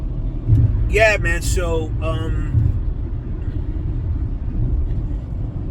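Steady low road rumble inside a moving car, a continuous dense drone that persists throughout, with someone talking briefly over it near the start.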